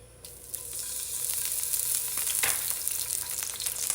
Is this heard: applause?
no